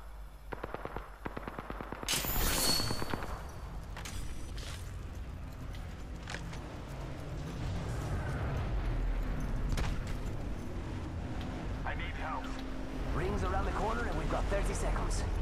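Video game gunfire: a quick burst of rapid shots opens, then scattered sharp cracks and bursts ring out over a busy battle ambience, with voices talking throughout.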